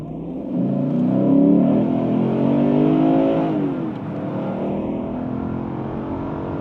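A Lexus IS 500 F Sport V8 in Sport S Plus mode accelerates hard, its engine note rising loud and steady before settling into a sustained cruise drone.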